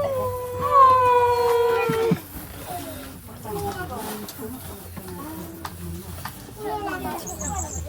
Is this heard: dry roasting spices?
no